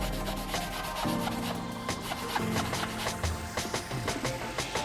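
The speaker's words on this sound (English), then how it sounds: "I'm gonna rub it in on the area." A sponge rubs leather conditioner into a damaged car seat, making a continuous close scrubbing and swishing sound with repeated back-and-forth strokes.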